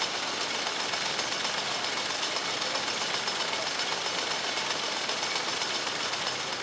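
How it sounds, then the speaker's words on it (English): A jute drawing frame running, its gill pins driven along by screws, giving a steady dense mechanical clatter and whirr at constant level throughout with no pauses. "We are observing how the gill pins are moved by the screws."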